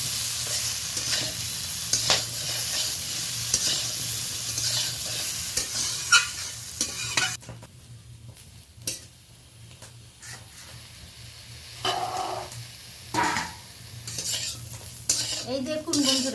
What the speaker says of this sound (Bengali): অল্প তেল দিয়ে হালকা ব্রাউন কালার করে আমি পটলটা ভেজে নিয়েছি